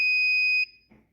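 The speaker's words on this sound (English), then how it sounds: "the last option is the buzzer, which makes the noise" A loud, steady electronic buzzer alarm from an Arduino ultrasonic distance sensor setup sounds as one continuous shrill tone for over half a second, then cuts off, followed by a faint soft noise.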